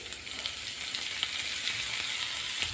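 Green chilies frying in oil over a slow flame for khichu, a steady soft sizzle that holds evenly throughout with no talk.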